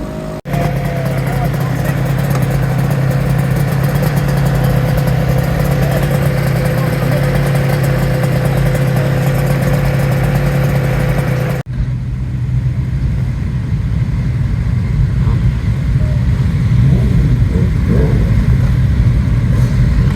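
Two-stroke Suzuki RGV and Kawasaki KR1S motorcycles at a Cadwell Park track day make a loud, sustained engine drone that cuts abruptly midway into a rougher, noisier wash of engine sound.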